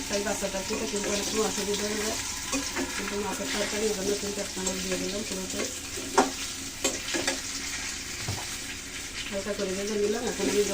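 Water poured into frying tengra fish curry with cauliflower, potato and tomato, a bubbling, hissing sizzle with stirring clinks and scrapes, close and fairly loud across the whole stretch, some faint voice in the background.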